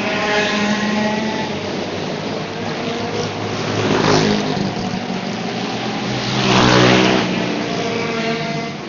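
A race car engine at a heat race drones steadily with a rough, strained tone, swelling louder around the middle and again near the end. No voices are heard.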